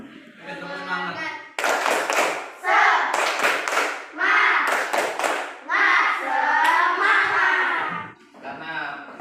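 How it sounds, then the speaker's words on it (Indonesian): A class of children performs a rhythmic "tepuk semangat" clapping chant, bursts of hand claps in patterned groups mixed with chanted voices, close and lively, closing a lesson. "kita tepuk semangat dulu supaya tambah semangat. Tepuk semangat."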